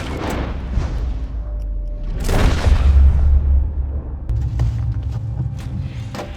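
Gunfire in the Red Dead Redemption 2 video game, two heavy booming shots with long rumbling tails, loud and close, surrounded by low ambient game sound.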